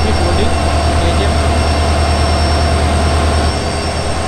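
An EMD-built WDP diesel locomotive idles loudly and close at a station platform ahead of an overnight train to Mangalore, a dense, continuous engine rumble and roar that fills the whole clip.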